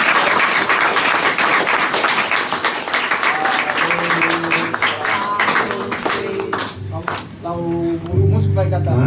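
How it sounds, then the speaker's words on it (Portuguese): A wedding congregation breaks into loud, sustained applause, many hands clapping in a dense wash that fades toward the end as voices and a few tonal sounds rise beneath it. "mais uma vez, uma salva de palmas."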